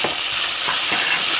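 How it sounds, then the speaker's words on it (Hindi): Chicken pieces frying in a pan for a chicken and tomato soup, giving a loud, continuous sizzle with faint stirring scrapes mixed in. "चिकन तकरीबन फ्राई हो चुका है।"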